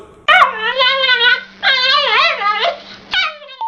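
A dog yelps and whines in a few long, wavering high-pitched cries, close and loud, with short gaps between bursts and no talking.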